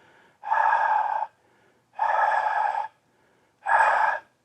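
Three heavy, breathy exhalations spaced evenly apart, each a loud rasping rush of air from a voice imitating labored breathing.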